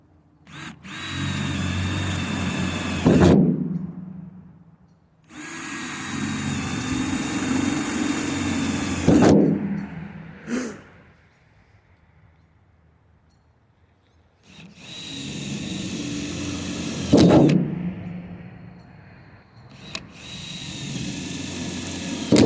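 A power drill drills holes for a roof rack install in several bursts of a few seconds each, with short pauses between, ramping down at the end of each run.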